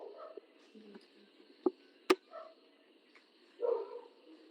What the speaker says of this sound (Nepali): कुकुरहरू भुकेका आवाजहरू है